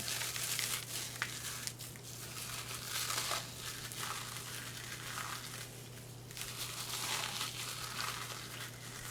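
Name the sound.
crumbling out-of-date food into crumbs by hand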